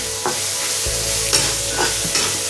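Chilli, ginger, garlic and onion sizzle loudly in a hot pan, a steady close frying hiss broken by a few scraping stirs.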